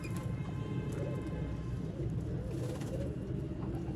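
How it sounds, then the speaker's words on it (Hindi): Sialkoti pigeons cooing in soft, low, repeated burbles close by, overlapping in a continuous murmur amid light ambient noise. "ये वो कबूतर है जिनको कहते हैं सियालकोटी दोस्तों।"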